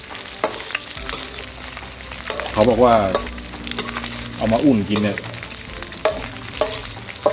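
Crispy pork being dry-roasted over medium heat in a pan to make it fragrant and crunchy again, with a loud sizzle and bursts of scraping stirring, while someone talks over it.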